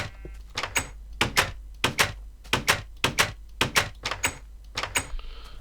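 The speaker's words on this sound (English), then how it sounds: "There's a new door sound." Doors in Minecraft Alpha open and close repeatedly, a quick run of a dozen or so sharp wooden clacks, often in pairs, close and crisp over a low steady hum.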